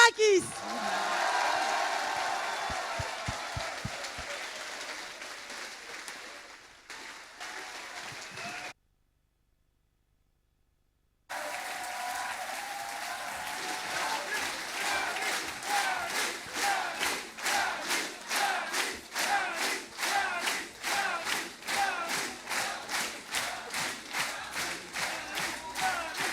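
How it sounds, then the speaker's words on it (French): An audience applauding and cheering Yanis Varoufakis at a political summit, with a crowd roar and cheers at first, then rhythmic unison clapping that grows steady and loud after a brief silent gap. "Je vous invite à acclamer Yanis Varoufakis."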